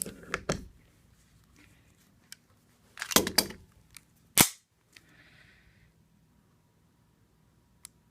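An IWI Jericho 941 pistol trigger pulled and reset, heard as a few sharp, loud mechanical clicks and snaps separated by quiet pauses, close up and alone with no talk.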